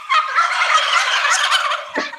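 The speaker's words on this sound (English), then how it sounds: "the turkeys are getting restless" Several turkeys gobble together in a loud, dense, rattling chorus that runs nearly continuously, then breaks off with a short final call near the end, with no talking.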